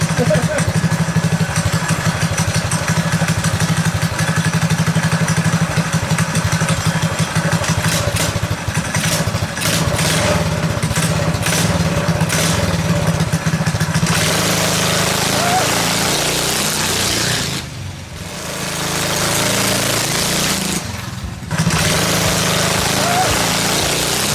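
A Predator 212cc engine with ignition advance on a modified KT196 go kart runs continuously with a loud, rough, rattling drone, with speech on top, then revs and dips twice as the kart moves.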